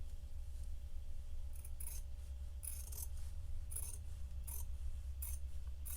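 Scissors snipping through shirt neckband fabric, a series of soft, crisp cuts repeating every half second or so over a low steady hum, close and quiet.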